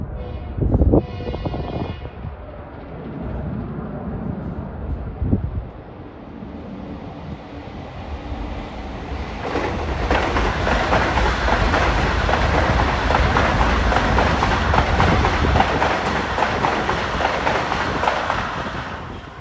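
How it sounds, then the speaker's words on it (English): An eastbound M9 commuter train from New York to Huntington sounds a brief horn, then rushes past a construction site at New Hyde Park, its roar swelling and holding strong amid wind buffeting. "And dashing over this construction site that was train 1722."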